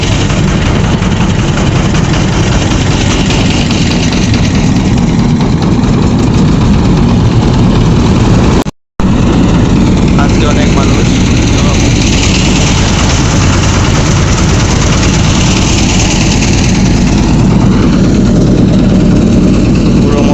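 On an engine boat crossing the Kushiyara River in Sylhet, a shallow engine drones loud and unbroken up close, its heavy rumble filling the whole stretch apart from one split-second dropout.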